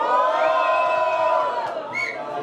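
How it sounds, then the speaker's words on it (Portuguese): A crowd shouts and cheers at a street rap battle semi-final, a loud sustained roar of many voices with whoops that holds steady, then rises briefly again near the end. "Quem acha que o Flavinho foi mais criativo no segundo round faz barulho?"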